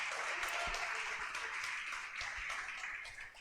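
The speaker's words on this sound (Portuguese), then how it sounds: "Dê um aplauso e um grito de vitória." Applause and cheering from a church congregation during a sermon, a steady wash of clapping and raised voices that stays fairly even and then tapers slightly.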